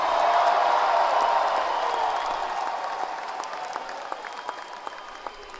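Concert crowd at the Waterfront Music Pavilion applauds and cheers after a band's set, a broad wash of clapping that slowly thins and fades, with scattered distinct claps toward the end.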